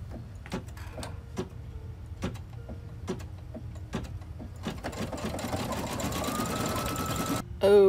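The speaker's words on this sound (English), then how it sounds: "so I'm ready to put it back in my machine. And I'll start the final stitching." An embroidery machine stitches in a hoop with a rhythmic mechanical tapping that becomes a denser, faster whirring run before it stops abruptly.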